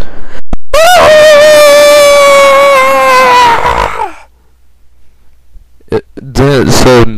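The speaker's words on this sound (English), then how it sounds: "screeching was heard for about 5 seconds" A loud, shrill, sustained screech lasts about three seconds, cuts off into near silence, then returns in short wavering bursts.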